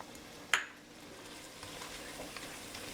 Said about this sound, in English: we're gonna let the flour cook out